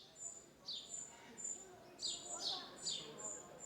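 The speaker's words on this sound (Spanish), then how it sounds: "quizá antes estuvo el canto de los pájaros" Birds sing in Cáceres, Spain, a series of faint, clear chirps and whistled notes repeating in short phrases against a quiet background.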